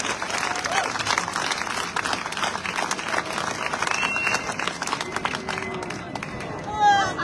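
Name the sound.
rally crowd applause for the police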